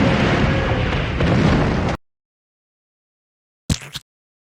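Giant Plankton smashing buildings in a SpongeBob game, a loud sustained crashing rumble of destruction that cuts off abruptly, followed after silence by a brief thud and crunch.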